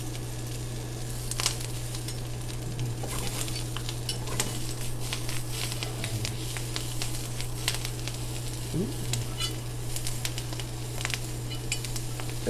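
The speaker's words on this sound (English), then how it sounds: "Adds a nice sizzle to it." Food sizzles steadily in a hot pan under a constant low hum, with scattered scrapes and taps of a utensil stirring it.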